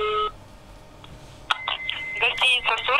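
Mobile phone call to a hotel reception desk: a dial tone and keypad beeps first, then a ringing line and chirpy electronic tones, with a voice speaking over the call signal.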